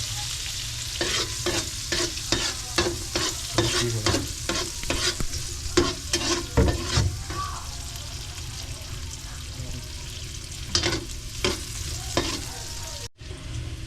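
Garlic sautéing in a pan, sizzling steadily while a utensil stirs and scrapes in repeated strokes, close and fairly loud, with a sharp cutoff near the end.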